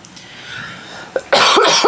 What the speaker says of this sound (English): I coughed on you.